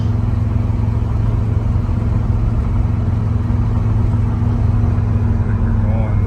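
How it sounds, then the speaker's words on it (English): A 1978 Chevrolet K10 pickup's engine drones steadily from inside the cab while driving at road speed, a constant low rumble and hum with no pauses; no talk. "We're out driving our 78 K10."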